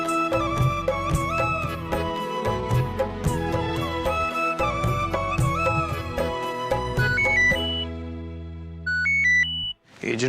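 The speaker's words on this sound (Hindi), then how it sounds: "एजेंट का फोन है।" A phone ringtone for a call from an agent, heard in a Hindi TV serial: a loud, steady melodic tune with layered tones plays alone for about seven seconds, then sustained notes and a few higher beeps follow.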